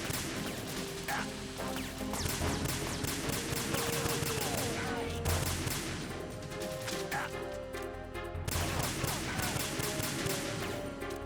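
Continuous gunfire in Metal Gear Solid 2: Substance on PS2, a dense loud barrage of rapid shots and crashing impacts that pauses briefly twice, with game voices and music mixed in underneath.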